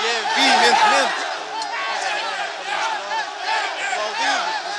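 A huge crowd of thousands outside the Hotel do Carmo roars and cheers for General Pinto Ferreira at a window during the 25 April revolution, a loud, sustained mass of voices and shouts with no clear clapping.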